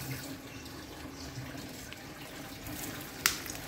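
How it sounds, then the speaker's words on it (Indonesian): Water poured onto the soil of a potted Aligator avocado plant makes a soft, steady, faint trickle, with one brief sharp click near the end. "Kita siram aja sampai dengan airnya meresap ke bawah."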